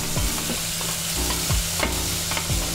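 Green chili and chopped tomato stir-fry in a hot pan, with a constant close sizzle punctuated by rhythmic scraping strokes of a spatula, no voices.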